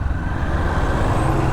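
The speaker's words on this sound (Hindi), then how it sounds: "ट्रैफिक सा लग रहा है," Steady road traffic noise from a congested street, a continuous low rumble of passing cars and two-wheelers at moderate distance with no talk.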